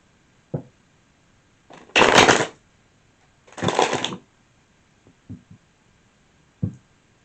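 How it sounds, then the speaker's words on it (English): Two bursts of crisp riffling tarot card shuffles, each about half a second, separated by quiet pauses with soft taps and knocks in between. "One more shuffle."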